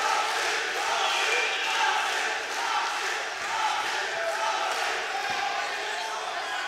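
A crowd roars and cheers steadily throughout, a dense wash of voices with no pauses, loud and sustained.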